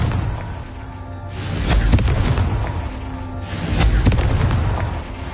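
Two heavy booming blasts of the Confringo fire spell rumble through a Hogwarts Legacy battle, each a loud low burst that swells and lingers with crackling debris, spaced about two seconds apart.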